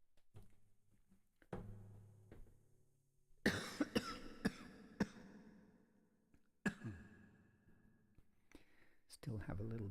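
Several sharp coughs come in a burst in the middle, with a few more scattered after it, during a kiirtan and mantra meditation session. Quieter breathing and small movement sounds fill the gaps around them.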